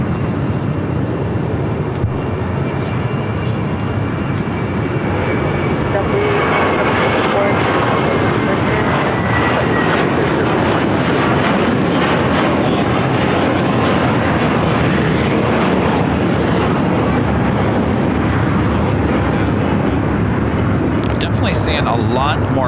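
A JetBlue A321 on its takeoff run at LAX, bound for JFK, gives a loud, continuous jet roar that holds steady the whole time, with a voice talking over it.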